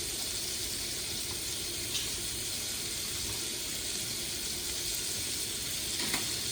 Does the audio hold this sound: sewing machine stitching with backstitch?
no